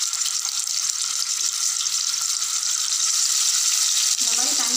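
Chicken pieces dropped into hot groundnut oil for a spicy chicken roast give off a steady, close hiss of frying, with a sharper sizzle near the end.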